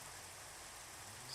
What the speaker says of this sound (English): And that is rain.